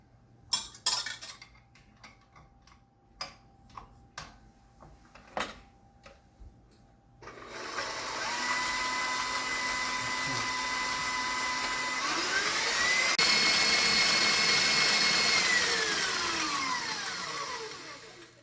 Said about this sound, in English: we're just going to whisk that up on the machine with the whisk until it's nice and aerated